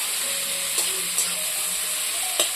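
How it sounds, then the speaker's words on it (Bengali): Onions frying in oil with black cumin seeds for a Bengali potato dish make a steady, close, hissing sizzle, with a few sharp stirring clicks from a utensil scattered through it. "পেঁয়াজটা বেশ সুন্দর করে ভেজে নেবো আমি এখন"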